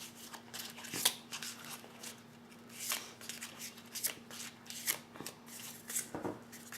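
Tarot cards shuffled by hand in a series of quick riffling bursts, close and fairly crisp, with a steady faint hum underneath and no talking.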